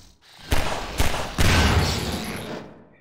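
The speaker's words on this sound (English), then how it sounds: "I can just shoot this with the pistol." Three sharp pistol shots from Half-Life 2: Episode 2, fired at an uneven pace about half a second apart, loud and close, the last trailing into a rumbling, clattering tail.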